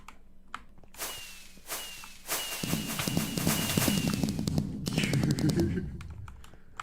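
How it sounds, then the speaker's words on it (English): Fireworks in the Minecraft video game go off as a run of sharp pops and crackling bursts, some with whistling trails, fairly loud and packed together in the middle of the stretch. "The no ceiling ordeal gives a nice little place to do fireworks."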